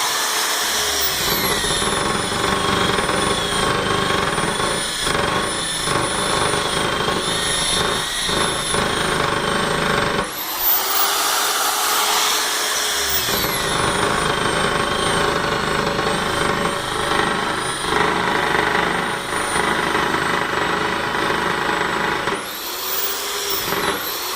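A water-fed sanding machine works on scratched glass with a loud, continuous whirring grind and high whine, briefly spinning down and back up twice.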